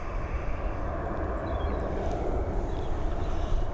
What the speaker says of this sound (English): that Boeing 737 Max touching down